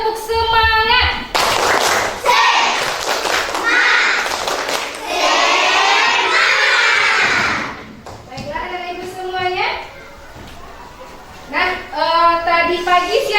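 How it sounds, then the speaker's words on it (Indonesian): Schoolchildren in a classroom perform a tepuk semangat chant, clapping in quick rhythmic bursts while shouting the words together, with a teacher's voice leading between rounds. "ibu mau uji dulu tepuk semangatnya. Tepuk semangat."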